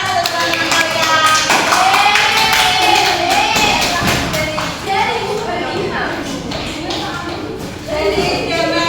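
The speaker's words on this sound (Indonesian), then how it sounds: "Tepuk tangan untuk teman-teman kalian." Students in a classroom group-guidance session applaud: scattered hand claps and taps, mixed with overlapping voices and talk from the room.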